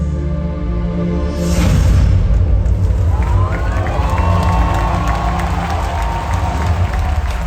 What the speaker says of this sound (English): The crowd went insane during the announcement